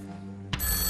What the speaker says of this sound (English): you're jumping when the phone rings